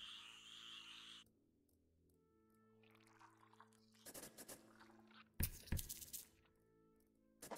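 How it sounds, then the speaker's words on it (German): A frog in the video game Empires of the Undergrowth gives a few soft croaks amid quiet ambient game sounds, followed by brief louder bursts of game noise. "Da ist ein Frosch am Spazieren."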